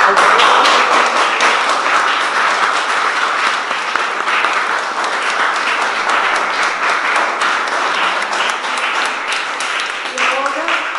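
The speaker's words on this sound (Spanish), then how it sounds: "para los cuales pido un gran aplauso" Loud, dense audience applause for panelists at a book presentation, steady clapping throughout with a voice briefly heard near the end.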